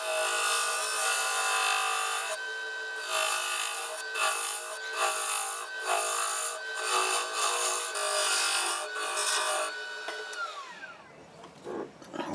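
A wood lathe spins a birdhouse part as a tool cuts a recess into it, producing a loud, steady whirring scrape with rhythmic pulses before the machine winds down at the end.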